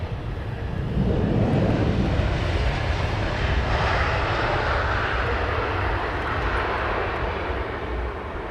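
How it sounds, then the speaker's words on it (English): A British Airways Airbus A320 arriving from Naples lands at Heathrow runway 27R, its engines a loud, steady roar swelling as it passes close, then a broad whooshing rumble trailing off, with no voices. "It's British Airways A320 from Naples."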